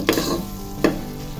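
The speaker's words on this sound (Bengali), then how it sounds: "এই পর্যায়ে আমি ডিমটাও সাথে দিয়ে ভেজে নিচ্ছি" Chicken and egg fry together in a pan for Chinese fried rice, a constant loud sizzle punctuated by two quick scraping stirs.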